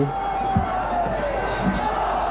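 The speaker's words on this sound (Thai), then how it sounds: "กองเชียร์ก็โอ้โหโอ้โหเป็นจังหวะ" Muay Thai fight crowd in a stadium with a steady roar of cheering and a few louder rhythmic shouted bursts, continuous and fairly distant, no clear talk over it.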